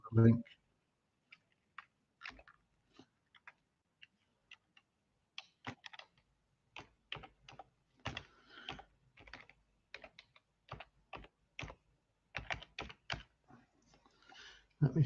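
Typing on a computer keyboard, sparse irregular clicks and bursts of keystrokes, close and fairly quiet against silence.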